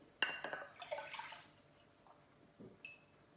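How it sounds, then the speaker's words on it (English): Warm water from a measuring cup is poured into a mixing bowl for homemade play dough, giving a short, soft splash and trickle followed by a few faint drips in a quiet kitchen. "pour that into the bowl"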